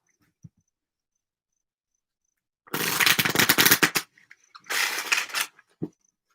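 A deck of cards is shuffled in two crisp, fluttering bursts separated by a short pause, loud and close in an otherwise quiet room.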